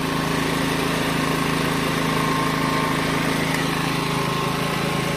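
A Kamastsu KS3800E petrol generator drones steadily and loudly throughout, running under load from a 2 kW hair dryer and a rotary hammer, a constant strained hum with no pauses and no talking.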